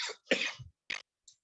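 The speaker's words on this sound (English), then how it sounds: "sorry for the coughing." A man giving a lecture on translation coughs: a rough burst, then a stronger, longer cough, a short sharp cough and a faint final catch, all close and separated by brief silences.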